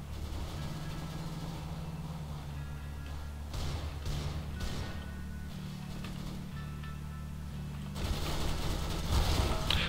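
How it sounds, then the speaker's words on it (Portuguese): Bursts of gunfire in Counter-Strike: Global Offensive, played in demolition mode, sound as several rapid volleys over steady low game ambience, with a louder, denser burst of shots near the end. "Olha quanto tiro dei no cara, velho."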